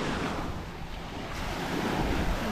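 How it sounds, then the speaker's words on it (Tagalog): Sea waves washing steadily around a small fishing boat out on open water, with a loud continuous surge and strong wind rumbling across the microphone, no voices. "Dahil ng alon, yan."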